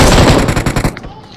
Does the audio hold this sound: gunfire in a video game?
yes